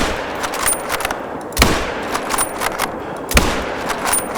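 Bolt-action rifle shots in the hunting game Call of the Wild, two sharp loud reports about two seconds apart over a steady ambient game backdrop, with no talking.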